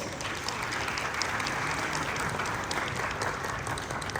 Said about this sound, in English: Please give them a hearty round of applause.